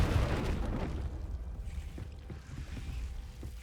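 The Confringo spell in a Harry Potter video game sets off a booming blast that starts loud and decays into a rumbling, crackling tail over a few seconds.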